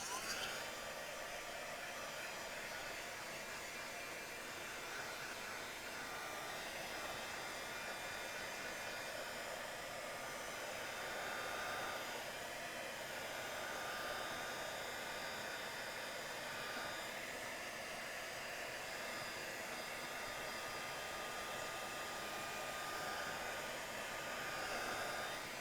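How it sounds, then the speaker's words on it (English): A hair dryer blows steadily and close up for the whole stretch, a continuous even whoosh drying alcohol marker ink on misted vellum, with no speech over it. "just quickly grab our dryer and just dry it off"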